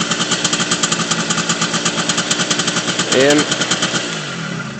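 A Honda SR 50 scooter with a big bore cylinder, not yet broken in, idles with a steady, loud, rapid putter, and someone briefly speaks over it near the end.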